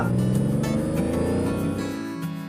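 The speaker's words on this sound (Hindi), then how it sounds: "तब मुन्ना ने अपनी गाड़ी को एक जगह रोका।" A car drives along at a steady low rumble and gradually slows, its engine fading toward a stop with no talk over it.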